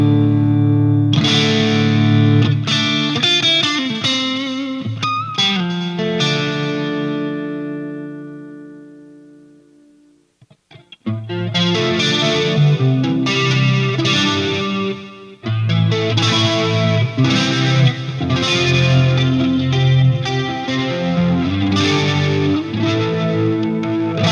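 Electric guitar run through Helix LT effects with a dotted-eighth delay, loud distorted chords ringing and echoing, fading out near the middle before strumming resumes with repeating delayed hits.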